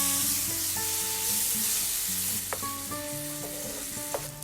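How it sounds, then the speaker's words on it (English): Onion-tomato puree being stirred into a sizzling pan of dhaba-style paneer tikka masala, with a steady frying hiss, a few brief utensil clinks and tonal notes in the background, close by and without talk. "Add the onion-tomato puree and stir it really well"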